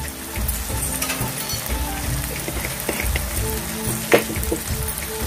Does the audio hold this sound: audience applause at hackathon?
no